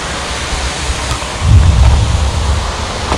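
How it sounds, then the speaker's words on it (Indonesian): A small river flows below a hillside at an abandoned amusement park, giving a steady broadband wash of water with a slightly louder low rumble midway, continuous and without speech. "Di bawah-bawahnya adalah sungai kecil ya, teman-teman. Kedengaran airnya."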